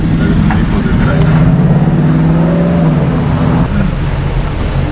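A Ford Mustang GT with a sports exhaust revs loudly up close, the engine note climbing in a strong surge and then dropping back, with the exhaust staying rumbly throughout.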